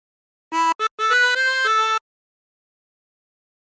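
Chromatic harmonica playing the second phrase of Bella Ciao: a short run of bright reedy notes, a few quick detached ones then longer held tones, close and solo, followed by silence.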